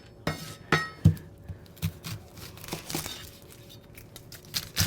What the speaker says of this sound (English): We're going to chop our onion here.